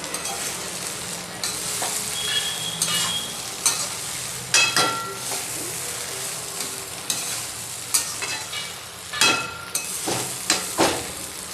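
Poha being stirred and fried in a pan for Maharashtrian kande pohe, with a steady sizzle broken by repeated scraping strokes of a spoon against the pan that grow more frequent toward the end. No voices.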